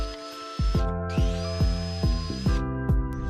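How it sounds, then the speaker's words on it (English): A whining drill bit grinds through sheet-metal car floor pans in a Subaru Impreza, bursts of high-pitched drilling interrupted by a series of sharp, rhythmic clanks. "I'm just going to pre-drill them"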